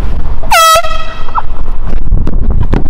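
A loud air horn blast goes off at close range outdoors in a Los Angeles street prank, a sharp brassy tone lasting under half a second, followed by noisy street ambience.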